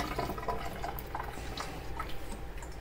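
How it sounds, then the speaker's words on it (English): Water rinse poured over a telescope primary mirror from a Celestron StarSense Explorer 130DX during cleaning, a steady close trickle with scattered drips and splashes. "Just pour some zero water on it."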